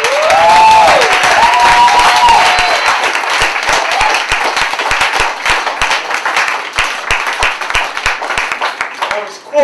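A New York City poetry slam crowd bursts into loud, full applause for a performer, with whoops over dense clapping that starts strong and thins into scattered sharp claps as it winds down.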